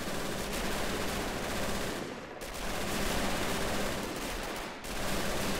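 A German machine gun in Men of War Assault Squad 2 rattles in continuous dense bursts during a Battle of Berlin city defense, heard at moderate distance with brief pauses between long strings of fire.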